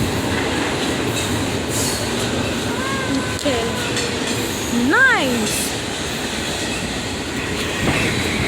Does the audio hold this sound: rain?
no